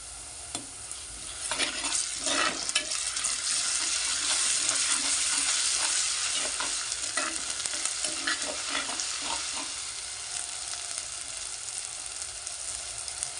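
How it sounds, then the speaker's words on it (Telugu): Onions frying and being stirred in a clay pot on the stove, a steady close sizzle with intermittent scraping stir strokes throughout, no talking. "కొద్దిగా గోల్డెన్ కలర్ వచ్చేంత వరకు వేయించుకుందాము ఆనియన్ని"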